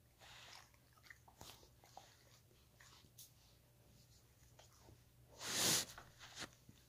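A dog chews beef jerky spiral treats, with sparse, quiet crunching and gnawing bites spread irregularly, plus one louder burst of crunching or movement near the end, heard close and without talk.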